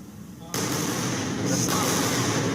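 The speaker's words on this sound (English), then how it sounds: "That's the double sonic booms." Rocket booster double sonic booms: a sudden deep boom bursts in at half a second, followed by a sustained rumbling roar that swells again, loud and distant-sounding over a quiet background.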